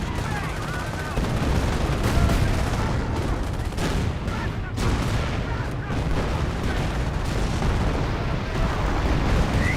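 Calliope rocket barrage pounding the battlefield in Company of Heroes, dense overlapping blasts and rumbling explosions with gunfire filling the whole stretch, loud and continuous, with a voice talking over it at points.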